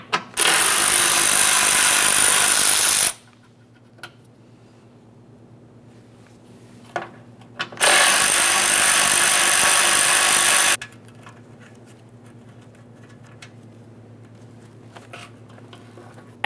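A power tool, likely a drill or impact driver, backing out two 10mm grille mounting bracket bolts on a Jeep Grand Cherokee in two loud, steady bursts of about three seconds each, separated by a quiet pause.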